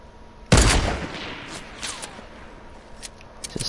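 A single loud, sharp sniper rifle shot in Fortnite cracks out and rolls into a long echoing tail, followed by faint scattered clicks and small sounds.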